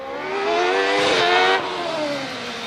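A hillclimb race car with a V8 built from two Suzuki Hayabusa engines on a billet block with a common crank screams past, its high-revving wail rising loud and close, then shifting down in pitch as it pulls away.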